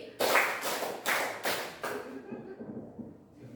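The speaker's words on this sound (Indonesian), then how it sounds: "Tepuk 2 2 kali." Students in a classroom clap together in a math exercise, a run of crisp group claps in even rhythm, then fading into quiet murmuring.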